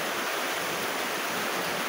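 Heavy rain pours outside a large window during a typhoon, a dense, continuous hiss of falling water with no break, loud and close, no voices.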